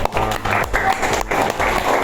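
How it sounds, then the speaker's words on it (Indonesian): Steady applause from a group in a classroom fills the whole moment, with a voice or two faintly underneath. "tepuk tangan untuk kelompok balok"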